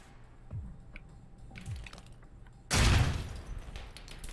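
A grenade detonates a truck's gas tank in the video game Alpha Protocol, a few muffled thuds followed by a sudden loud, booming explosion with a rumbling tail over continuous game ambience.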